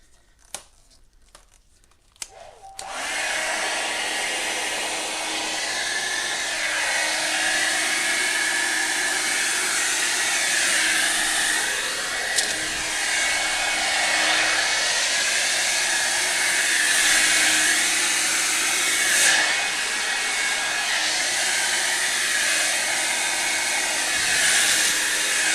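A hair dryer blows acrylic paint across colors for a transfer background, starting after a few seconds of near silence with a click, then a loud, steady whooshing roar that continues unbroken with slight wavering.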